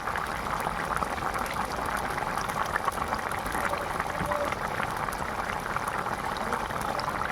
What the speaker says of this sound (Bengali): ফুলকপি আলু দিয়ে তেলাপিয়া মাছ দিয়ে ঝোল ফুটছে দেখুন